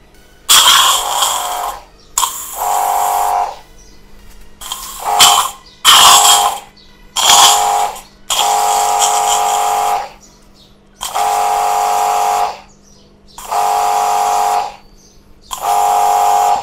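A Kanto Shark Pro high-pressure washer with an induction motor, set to air-conditioner cleaning, runs in about eight separate bursts of a loud, even motor whine, each lasting one to two seconds, with short silent gaps between them.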